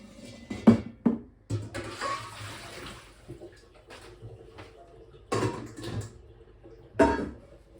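Hot water is poured off in uneven bursts of splashing and gurgling, with quiet gaps and soft knocks in between, close and fairly faint.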